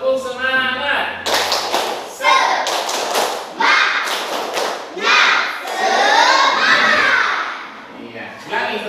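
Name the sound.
class doing the 'tepuk semangat' spirit clapping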